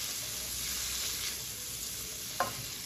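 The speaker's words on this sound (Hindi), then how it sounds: "इसको भी साथ साथ थोड़ा फ्राई करेंगे" Chopped small onion sizzles softly in a pan on low heat for a Turkish chicken soup, a faint steady frying hiss with one brief stir near the end and no voices.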